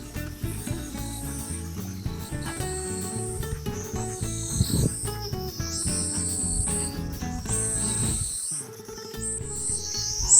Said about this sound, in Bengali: জঙ্গলের ঝিঝি পোকার ডাক